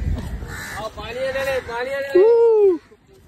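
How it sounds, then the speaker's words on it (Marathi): A crow caws near a Mumbai home, a few harsh calls at the end with a child's and adult's voices talking over the start. "अगं कावळा उठून आला"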